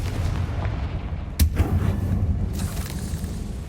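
A Confringo fire-blast spell bursts in Hogwarts Legacy: one sharp, loud boom strikes mid-clip and decays into a rumbling tail over steady low ambient background noise.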